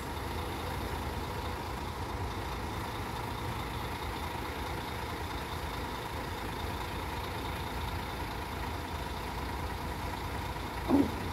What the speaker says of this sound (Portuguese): Olha o ronco do motor.